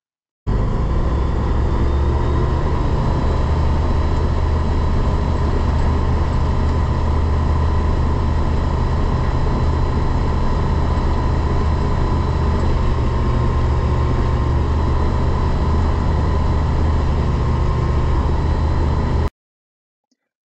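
A Rotax 912 ULS aircraft engine holds a steady run-up at 4000 RPM, a loud continuous drone with no pauses that cuts off abruptly near the end.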